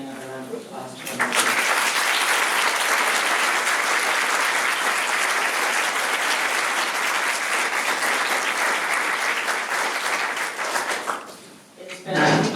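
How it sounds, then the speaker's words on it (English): Loud, sustained audience applause at a university young alumni awards ceremony, dense clapping filling about ten seconds between brief stretches of a speaker talking at the start and end. "I would like to ask you to join me in giving another round of applause to our"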